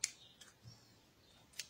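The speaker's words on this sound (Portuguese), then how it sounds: "por isso que eu falei que tem que ser uma tesoura boa para corte" Sharp scissors snip through crochet yarn while a crochet Santa Claus doll is being made, giving two or three crisp, quiet cuts spaced apart with no talking.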